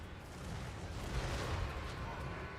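Ogre Maneaters fire pistols in the fantasy strategy video game Total War: Warhammer. The shots form a dense, continuous rumble of battle noise with booming low end, and a voice talks over it.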